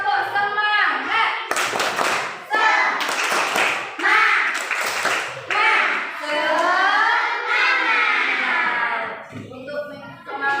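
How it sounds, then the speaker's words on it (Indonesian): A classroom of children performs a rhythmic spirit clap, bursts of clapping in patterned beats mixed with chanting voices, loud and close throughout. "akan melakukan tepuk semangat."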